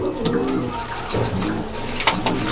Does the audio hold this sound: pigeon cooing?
yes